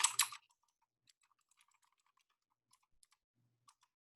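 Keys pressed on a computer keyboard while entering a command, a few faint, sparse clicks after a brief rustling burst at the start, quiet and isolated with no talk.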